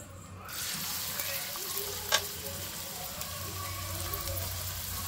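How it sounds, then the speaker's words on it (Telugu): Onion, green chilli and curry leaves frying together in oil in a pan, a continuous close sizzle with faint stirring and one brief sharp clink partway through. "సో ఆనియన్, పచ్చిమిర్చి, కరివేపాకు 3 కలిపి అయితే వేసేసుకుంటున్నాం ఒకే దాంట్లో."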